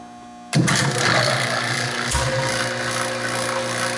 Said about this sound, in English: Let me start the vacuum pump.